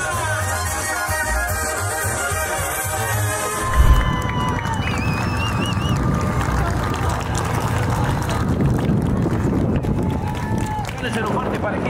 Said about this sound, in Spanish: Regálenselo fuerte y parejito.